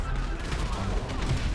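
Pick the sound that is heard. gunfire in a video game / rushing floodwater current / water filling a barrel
gunfire in a video game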